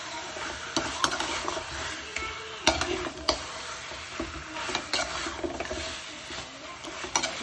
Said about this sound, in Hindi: करीबन 10 से 15 मिनट हम इसे अच्छे से भूनेंगे।